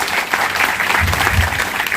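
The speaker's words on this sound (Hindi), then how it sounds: "तो एक जोरदार ताली शैलजा मैम के लिए भी।" Crowd at a public function in Forbesganj breaks into hearty applause, a loud, continuous wash of clapping with a low rumble underneath.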